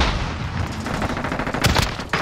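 Gunfire in the video game Call of Duty: Warzone crackles in rapid bursts, with sharp shots cutting through a busy, noisy backdrop and a final loud volley near the end.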